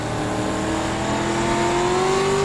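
A racing truck's engine in iRacing drones steadily at high revs, its pitch climbing smoothly as it accelerates, loud and continuous with no talk over it.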